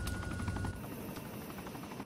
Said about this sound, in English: I hear gunfire from the other side of the mountain